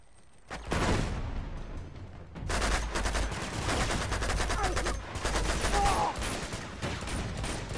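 Rapid gunfire from the video game Uncharted 2, loud, sustained volleys of automatic shots with a brief lull before the shooting resumes and carries on steadily to the end.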